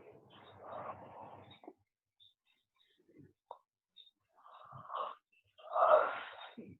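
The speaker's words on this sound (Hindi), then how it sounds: "ये जो भी उबासी ले रहा है" Someone in an online class yawns over a microphone, producing drawn-out breathy, moaning exhalations with short gaps of silence between them, the last one loudest.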